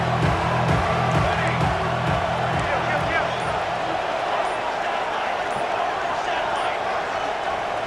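Steady, dense stadium crowd roar from the EA Sports College Football 26 video game fills the whole stretch at constant loudness, with a low rhythmic chant-like pulse early on and commentary voices over it.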